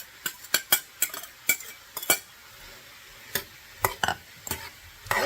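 Onions and peppers tossed into a pan where garlic is already toasting, followed by a series of sharp utensil scrapes and clinks against the pan over a faint sizzle, irregular and close.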